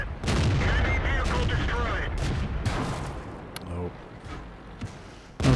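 Tank cannon fire from a RAM II premium tank in World of Tanks, with a loud booming blast near the start and a few sharper reports later, set against continuous battle noise and someone talking throughout.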